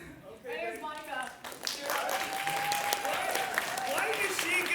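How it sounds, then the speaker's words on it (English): Applause from an audience in a lecture hall, a dense patter of clapping that swells after a brief voice at the start and continues steadily, with a faint tone and some talk mixed in. "Why does she get applause and I do not get applause?"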